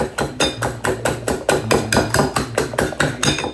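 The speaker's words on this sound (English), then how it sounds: "Give this a good whisk with the fork that I'm using." Fork whisking egg with garlic powder, salt, pepper and onion powder in a bowl, about sixteen rapid, even clinking strokes, close and crisp, with no talk.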